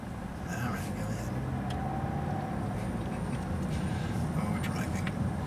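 A car driving along with a steady, close road and engine rumble throughout, while a person talks over it.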